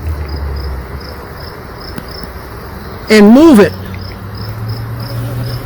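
Honeybees drone steadily around a summer hive opened for removing brood frames and moving them to a five-frame nuc box, a soft continuous buzz with a brief spoken phrase over it.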